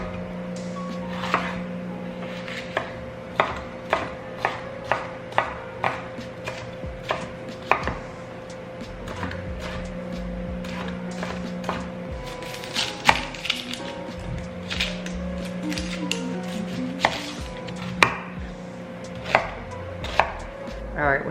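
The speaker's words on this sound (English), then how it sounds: "we're gonna cut up our peppers and onions" A knife chops peppers and onions on a cutting board, a long run of crisp, fairly regular taps close by, with a low steady hum in the background and no talking.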